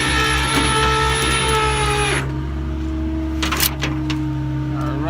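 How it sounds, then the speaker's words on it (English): A flatbed tow truck's winch whines steadily as it pulls a car onto the bed, then cuts off after about two seconds, leaving a low idle hum with a few metallic clanks. "You can winch it up onto the truck freely."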